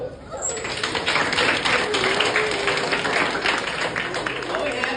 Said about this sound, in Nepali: ओके ताली बजाऊ